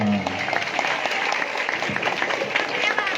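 An audience at an Islamic religious lecture breaks into applause, a busy burst of many hands clapping that carries on steadily with some crowd noise and voices mixed in.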